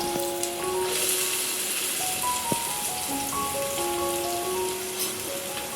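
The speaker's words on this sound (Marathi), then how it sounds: "तेल तापलेलं आहे आपलं. आता त्याच्यामध्ये घालायचं आहे खूप सारा कांदा." A large batch of onions is dropped into hot oil, giving a steady, loud sizzling hiss that runs without a break, with faint background music underneath.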